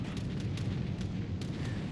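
Airstrike bombs drop and explode in the naval battle game World of Warships Legends, a continuous heavy booming rumble with several sharper bursts layered over it and no talking.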